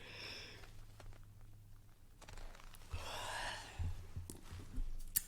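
A long, breathy yawn exhale from a woman, a soft drawn-out sigh building midway with quiet breath noise and a low steady hum beneath, no speech.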